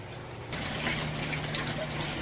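Water in an aquaponics greenhouse bell siphon starting to drain, a soft steady trickle and splash rising after a quiet start and continuing at low volume.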